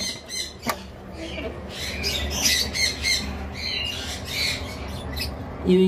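Caged lovebirds squawk and chirp repeatedly in harsh overlapping bursts, fairly close, with a steady low background hum and a voice speaking faintly beneath.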